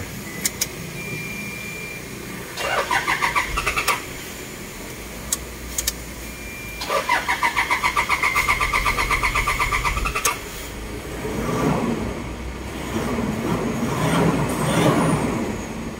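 A Toyota Fortuner engine cranks in two bursts of rapid rhythmic starter chugging, then catches and settles into a steady running idle, close and loud, with no speech.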